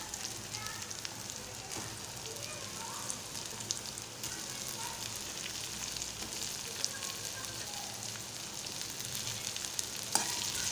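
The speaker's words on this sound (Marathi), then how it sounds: "आता व्यवस्थित परतून घेणार आहे मी" A salted mixture sizzles and fries steadily in a pan, with a continuous crackling hiss and occasional faint stirring sounds, before boiled potato is added; no talking.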